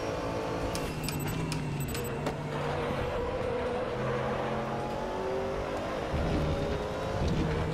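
Race car engine from the RaceRoom video game, a steady droning roar with shifting pitch as the car accelerates and changes gear, continuous and fairly loud with no talk.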